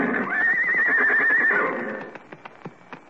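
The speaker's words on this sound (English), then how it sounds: "Well, here he comes with the horses." Horses neighing as a radio show sound effect, one loud close whinny followed by a series of clip-clop hoofbeats fading out.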